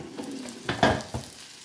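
Garlic curry chicken wings are turned over in an air fryer basket, giving a few short, close clattering scrapes with a soft sizzle underneath, loudest near the middle of the moment.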